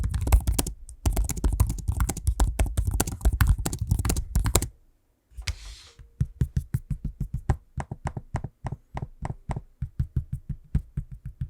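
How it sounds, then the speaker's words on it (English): Rapid 16-inch laptop keyboard typing, a dense flurry of clicks, then after a brief pause a slower, steady run of distinct keyboard taps and trackpad clicks, close and fairly loud. "Here's a quick audio sample of me using the keyboard and trackpad"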